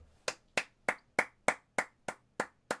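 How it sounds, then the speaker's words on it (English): Nine crisp hand claps at an even, quick pace ring out close and clear in a quiet room, each one sharp and separate. "Now that was clapping."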